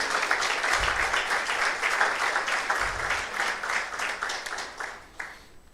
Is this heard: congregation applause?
yes